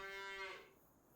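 A single cow in the Farming Simulator 25 video game gives one drawn-out moo that fades away, close and clear with nothing else around it.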